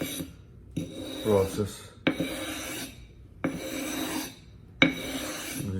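A knife sharpening stone being flattened gives four or five long, gritty rasping strokes, each starting with a sharp scrape and separated by brief pauses, close and clear, with a faint voice.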